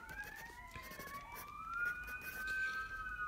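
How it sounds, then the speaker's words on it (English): A distant fire engine siren wails in rising and falling sweeps, faint and steady against quiet background hiss. "Can you hear that fire engine out there?"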